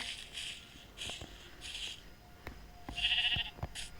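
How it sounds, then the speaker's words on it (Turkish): Minecraft sheep bleat repeatedly with short, slightly synthetic calls, mixed with sharp clicks and taps from the game, fairly quiet overall. "Koyun da bulduk."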